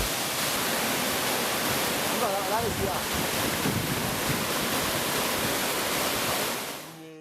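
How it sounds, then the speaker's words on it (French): Roar of Togo's largest waterfall deep in the forest, a loud, dense, unbroken wash of falling water that fills the scene before fading out at the end. "devant la cascade la plus importante du Togo"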